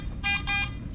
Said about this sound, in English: Do you hear the double beep beep beep beep? That means that's a solid target.